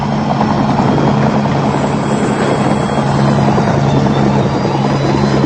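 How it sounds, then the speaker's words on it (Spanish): Rotor blades of the Helimer Cantábrico rescue helicopter beat steadily and loudly over a city district amid smoke, a continuous close droning chop filling the whole stretch with no voices. "percibir un ruido producido por las aspas de un helicóptero, el Helimer Cantábrico"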